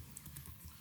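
Computer keyboard keys are tapped quickly and lightly while a relative path is typed at a command line, faint clicks over a soft background hiss.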